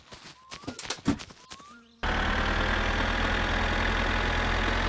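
After two seconds of clattering clicks and knocks, a tractor engine in the video game My Summer Car kicks in and idles with a loud, steady, low rumble until the end.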